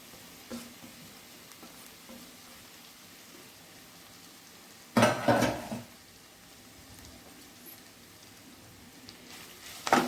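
Grated bottle gourd is sautéed in a pan for dudhi rice. A faint sizzle sits under a quiet background, broken by a louder burst of stirring and scraping midway and a brief clatter at the end.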